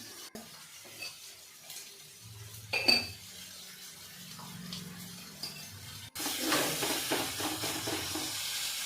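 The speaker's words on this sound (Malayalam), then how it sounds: "ചട്ടി ചൂടായതിന് ശേഷം ഉള്ളിയും വേപ്പിൻ്റെലും കൂടെ ചേർത്ത്." Onion and neem leaves drop into a hot pan. After a few clinks and a soft stir, a sudden burst of bright hissing sizzle sets in and holds steady and close.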